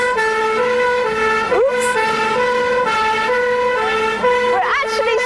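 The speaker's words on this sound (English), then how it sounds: "We're actually speeding through the city of Bath with a police siren" Police siren blaring from a car speeding through the city streets of Bath, a steady loud wailing tone held close throughout, with a brief spoken exclamation over it.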